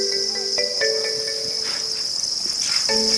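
Farmed crickets being raised for sale sing in a dense chorus, a steady high-pitched trill running throughout with overlapping chirps from many insects close by, loud and continuous with no voices.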